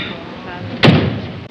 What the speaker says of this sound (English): Wait till I shut the door.